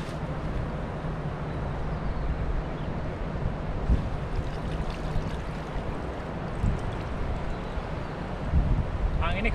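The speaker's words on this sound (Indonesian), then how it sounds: "Anginnya gede guys, banter banget anginnya" Strong, gusty wind roars outdoors during net fishing by the water, a steady broadband rush with louder gusts, buffeting the microphone, while faint talk sits beneath it.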